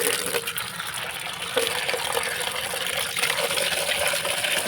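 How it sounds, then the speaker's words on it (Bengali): Water poured onto freshly sown seeds in a small rooftop garden, a steady splashing, gushing wash that runs continuously and fairly loud, with no talking. "দাঁড়ান আগে একটু জল দিয়ে নিই"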